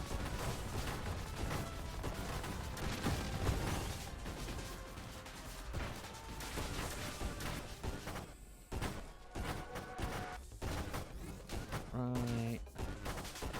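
A spaceship in the arcade shooter Nova Drift fires a bullet-saturation build in every direction, producing a dense, relentless barrage of rapid shots and crashing impacts, with a brief spoken word partway through.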